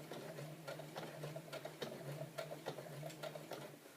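A sewing machine stitches and back tacks through beach bag fabric, giving a close, steady ticking run of needle strokes at an even rhythm over a soft motor whir, with no talk.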